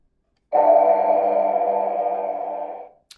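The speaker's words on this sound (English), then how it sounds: "Real simple, just press and short hold to boot up." A Bendu Armory Limited Edition TriAxial Obsidian neopixel lightsaber with a Savage Press sound font boots up: a sudden, loud, sustained electric hum swells, holds for over two seconds, then tapers off, ending in a small click.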